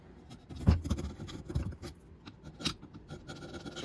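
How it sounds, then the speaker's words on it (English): Brisk scraping and rasping of a tool against a rusty brake part on a Mazda 3's front brakes, short irregular strokes up close, fairly quiet and with no voices. "Just got rid of the loose rust."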